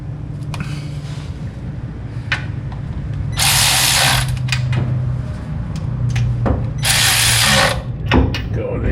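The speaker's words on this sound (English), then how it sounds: "now we can stick some bolts in it and see if we can get this thing tightened down" A ratchet tightens bolts on a 1969 Chevy C10 in a series of close clicking strokes, with two louder bursts of rapid ratcheting over a faint background hum.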